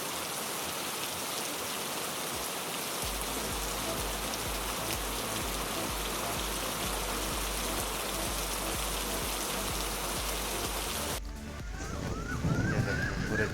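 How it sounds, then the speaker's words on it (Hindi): Heavy rain pours steadily onto surfaces in a rural dairy setting where milk is sourced, a dense continuous hiss for most of the clip before it briefly drops and shifts near the end. "अभी भी खैर बारिश हो रही है जो कि थोड़ी सी कम हो चुकी है अब।"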